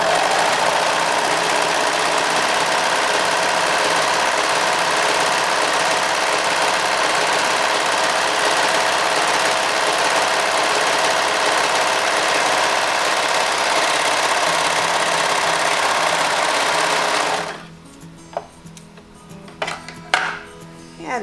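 A serger running a rolled hem hums loudly and steadily for about seventeen seconds, then stops abruptly, leaving a few light clicks and handling sounds.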